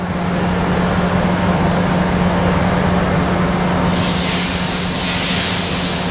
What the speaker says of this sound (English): now I'm going to turn the machine on